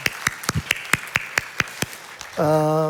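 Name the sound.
church congregation clapping in greeting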